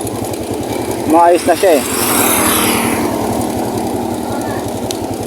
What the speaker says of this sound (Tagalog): Pwede na magamit itong motor ko na to sa pangmalayuan